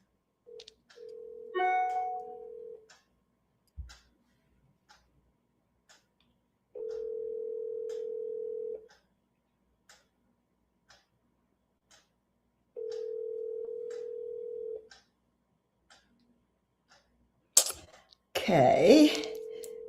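A telephone ringback tone repeats three times in long, evenly spaced bursts with silence between, unanswered, followed by a brief burst of handling noise at the end.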